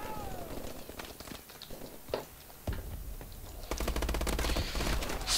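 Rapid automatic gunfire from a team deathmatch in Call of Duty: Advanced Warfare rattles in dense bursts, growing louder and more continuous toward the end, with footstep-like taps between volleys.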